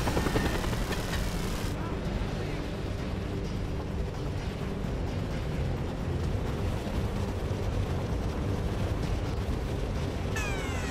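A helicopter in the Just Cause video game drones loudly and continuously while coming under fire, with a player's voice over the game sound.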